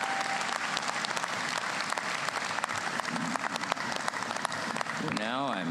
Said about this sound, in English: Let's give the 2025 awardees another round of applause